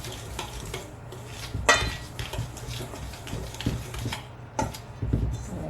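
Butter chunks being worked into biscuit dough in a bowl, with irregular scraping and clinking of a utensil against the bowl, close and moderately loud, plus a few sharper knocks.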